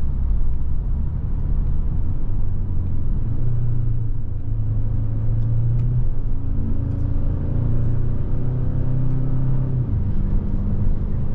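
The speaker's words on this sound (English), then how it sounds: "now we finally got the traction and we're moving it down the road" A 2023 Hyundai Sonata N-Line pulls away down the road after wheelspin, its engine a steady, loud rumble rising in pitch as it gains speed, heard from inside with no talking.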